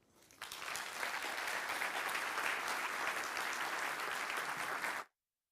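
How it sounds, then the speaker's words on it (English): Audience applause after a talk on artificial intelligence, a sustained, even roar of many hands clapping that swells in quickly and cuts off abruptly after about five seconds. "round of applause for Tiago, guys."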